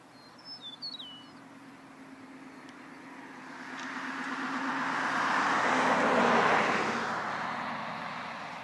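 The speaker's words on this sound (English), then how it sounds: "for a backwoods country road, it's awfully freaking busy" A car approaches along a country road and passes with a swelling, then fading tire-and-engine rush, while a bird chirps briefly beforehand in an otherwise quiet outdoor setting.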